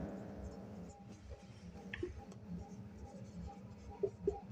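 Marker or chalk scratches across a board in short strokes, faint and intermittent, under someone speaking continuously.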